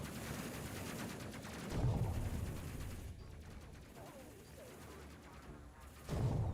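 A ship's gun fires in the Space Crew game, a steady stream of quick shots under constant rumble with heavier bursts near the start and end, faint overall.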